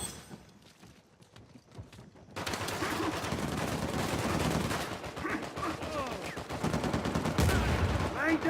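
Rapid bursts of gunfire crackle through a multiplayer match of Uncharted 4, with repeated shots and short volleys stacking up after a quieter opening, mixed with game effects and faint voices.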